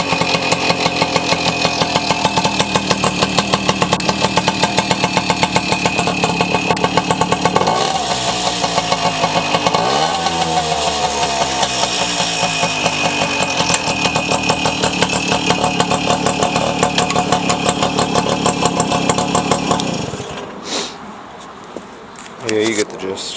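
A 1999 Honda Accord engine runs on choke after being kicked over, a loud continuous rumble with uneven revving and a couple of throttle swells before it cuts off near the end.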